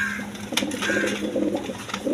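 A pair of Lahori pigeons, blue-barred, coo softly inside a large cage, a steady low murmur near the birds with faint background hum.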